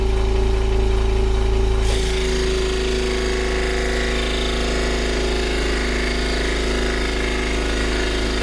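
Scroll saw with a Flying Dutchman blade cutting thick walnut, a loud steady buzzing drone that shifts in tone as the blade engages the hard wood.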